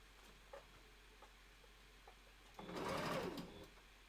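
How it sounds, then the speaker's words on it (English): A sewing machine runs in a short burst while stitching the top of a wolf costume tail closed, following a few faint ticks and clicks, fairly quiet and heard alone. "now I will sew the top closed."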